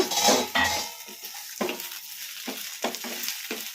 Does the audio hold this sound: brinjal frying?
yes